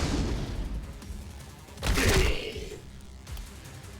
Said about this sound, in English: let's start by casting a lightning spell